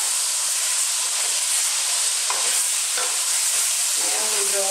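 Beef pieces browning over high heat in a pot for Provençal beef stew, heard as a loud, steady sizzle and hiss with stirring scrapes near the end, with no talking.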